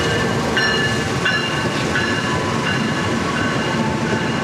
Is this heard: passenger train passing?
yes